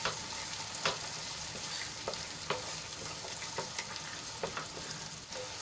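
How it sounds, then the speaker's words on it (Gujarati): Chopped tomato and onion sauté in a pan, a steady close sizzle broken by frequent sharp scraping clicks from stirring, with no voices. "તો એમાં એક નાનું કાપેલું ટમેટું એડ કરી લઈશું અને ટમેટું આપણું સોફ્ટ થાય ત્યાં સુધી એને સાંતળી લઈશું"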